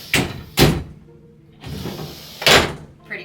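Shower doors in a cruise ship balcony cabin bathroom on Royal Caribbean's Adventure of the Seas, sliding and knocking shut in several sharp close thuds with rattling slides between them, no talk.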